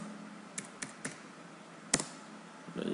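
A computer keyboard is typed on while drafting a floor plan in AutoCAD: a few separate close keystrokes, then a sharper tap, and more clicking at the end, in a quiet room.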